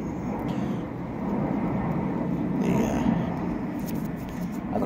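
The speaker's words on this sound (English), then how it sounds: "I don't know if you can hear me with that plane flying over it," A large airplane flies overhead during a stormy day, a steady, broad roar that swells slightly in the middle and stays loud throughout.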